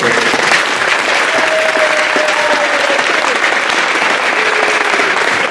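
Steady, dense applause from a crowd at a middle school awards ceremony fills the whole stretch at close range and fairly loud, with no break or fade.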